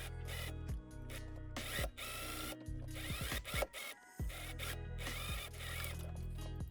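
Sewing machine joining the bust pieces of a cottagecore dress: close mechanical whirring in bursts of steady stitching, with several brief pauses and one longer stop before stitching resumes.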